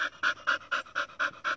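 A dog pants rapidly and rhythmically, about seven quick breaths in steady succession, close and clear while it watches an owl in a garden.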